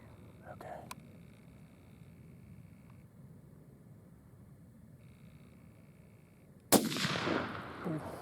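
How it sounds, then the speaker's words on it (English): A single loud, sharp hunting rifle shot is fired at a deer during a Pennsylvania deer hunt. Quiet woods come before the shot, and a rolling echo follows it. "You can shoot her right now in the front shoulder if you want."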